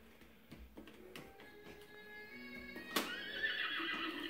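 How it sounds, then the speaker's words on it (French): A horse whinnies loudly and alone, a drawn-out shrill neigh with a rising, wavering pitch that swells toward the end, preceded by a few soft knocks. "Ah, c'est un cheval."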